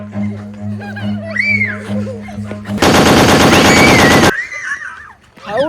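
At a Holi celebration, a toy gun fires a loud, rapid machine-gun sound effect for about a second and a half. It cuts in sharply after playful tonal sounds and laughter, then stops abruptly.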